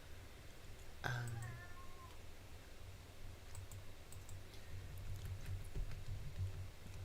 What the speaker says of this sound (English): can y'all hear my cat in the background making silly sounds?